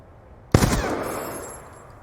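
Gunfire with FMJ rounds in Call of Duty Black Ops 2, shooting an enemy through a wall: a single loud, sharp shot bursts in after a quiet lead-in, then a long, reverberant tail fades slowly, with no talk.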